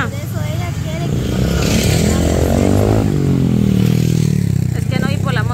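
A motorcycle engine passes close by on a street outside a school, loud and rising then falling in pitch, with people talking over it.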